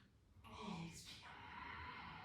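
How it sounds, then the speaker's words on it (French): A long, steady exhale during a yoga session, the breath rising after a brief intake and holding as a soft, even rush of air close to the microphone. "Et expire."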